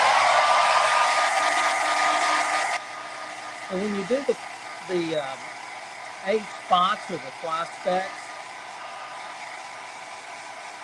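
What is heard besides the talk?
hair dryer blowing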